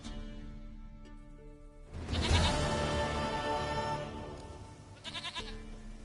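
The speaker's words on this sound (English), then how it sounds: "Goat of mine, dearest, sweetest goat." Goat bleating in a PS4 video game, a loud wavering bleat that rises after a quiet start and carries over soft background music, then a shorter bleat near the end.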